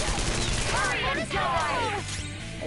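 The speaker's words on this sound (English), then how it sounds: "Gatling gun." A Gatling gun fires in a video game, a continuous rattling burst under raised voices that talk throughout.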